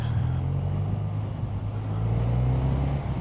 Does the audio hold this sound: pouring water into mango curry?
no